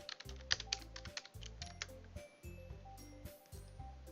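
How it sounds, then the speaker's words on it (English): Rapid bursts of computer keyboard typing, close and fairly quiet, with short pauses between clusters of key clicks over a faint steady background tone. "I'll type in the chat."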